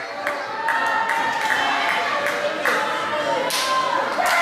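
A wrestler claps his hands during a live wrestling match, rhythmic claps ringing out over a steady roar of crowd noise in the arena.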